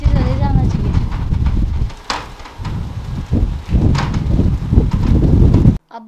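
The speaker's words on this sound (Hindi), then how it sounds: "बहुत ज़्यादा तेज़ हवा आ रही है, बहुत ज़्यादा" Strong wind sweeps across a rooftop, buffeting the microphone with loud, low, rumbling gusts for several seconds before cutting off abruptly, with voices faintly present beneath.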